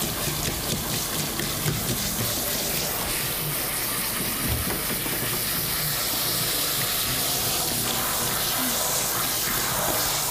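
A handheld shower head sprays water while rinsing a Bichon Frise's face and whiskers during a bath, giving a steady, close hiss of running water with splashing throughout.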